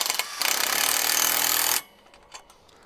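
A power tool tightens a bolt on a trampoline enclosure pole, giving a loud, steady buzzing whir for about a second and a half before cutting off. Faint clicks follow in the quiet afterward.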